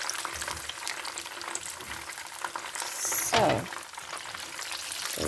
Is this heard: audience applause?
no